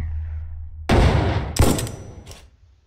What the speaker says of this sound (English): You can't survive a sniper round to the face.